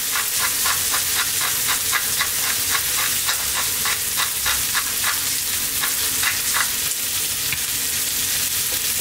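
A smoky bacon pasta sauce with oregano, smoked paprika and black pepper sizzles steadily in a frying pan. A utensil stirs through it with repeated close scraping strokes.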